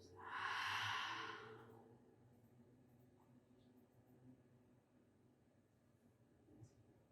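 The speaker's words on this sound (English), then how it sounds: "Exhale by the mouth." A long, breathy exhale through the mouth during an aerial yoga class, close and soft, lasting about a second and a half and fading into near silence with faint background noise.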